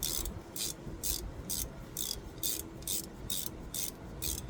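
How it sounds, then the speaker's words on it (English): A 3/8 ratchet loosening a differential drain bolt, with rapid ratcheting clicks in a steady rhythm of about two strokes per second, close and fairly quiet over faint background noise. "Now I'm taking out my drain bolt. Once again, like I said, it's a 3/8 ratchet."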